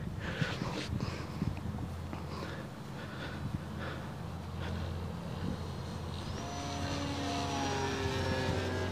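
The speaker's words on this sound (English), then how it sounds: "BF110 going up." A Durafly BF110 model airplane flies overhead at a park flying session, its propeller engine droning steadily and faintly at a distance, growing slightly louder toward the end.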